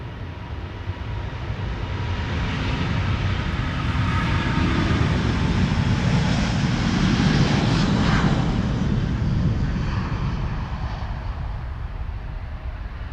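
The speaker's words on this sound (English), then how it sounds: "A350 is spooling up." A Delta Air Lines Airbus A350 spools up its engines for departure at Amsterdam Schiphol, a loud broad jet roar that builds and swells toward the middle and then holds steady, heard alone without voices.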